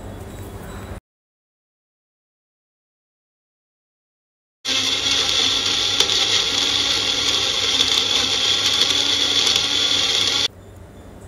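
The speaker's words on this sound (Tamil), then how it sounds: "அந்த வழுக்க தேங்காவை நம்ம மிக்ஸி ஜாரில் போட்டு நல்லா பேஸ்ட்டாக அரைச்சி எடுத்துக்கலாம்" A mixer grinder grinds tender coconut flesh to a paste, whirring steadily at high speed for several seconds after a brief pause of silence, a loud buzzing motor drone that cuts off abruptly.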